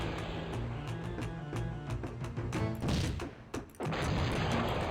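Artillery fire at howitzers in the Cossacks strategy game, a run of sharp booming shots and crashes in quick succession over a busy battle din, with a brief lull before the noise resumes.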